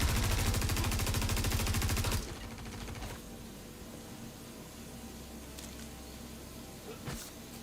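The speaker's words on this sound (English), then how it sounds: "But now he's actively shooting here." Rapid automatic gunfire from a space combat game in Star Citizen roars loud and dense for about two seconds, then cuts off, leaving a low rumbling drone with a few faint distant bursts.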